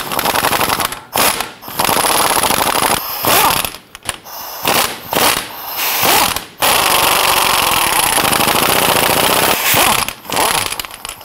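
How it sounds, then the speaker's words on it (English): Loud bursts of rapid mechanical rattling as Allen bolts are removed with a number 8 Allen from the rear of a Jeep Grand Cherokee front drive shaft, with short gaps between the runs. "Now we're going to remove the Allen bolts on the rear of the front drive shaft first."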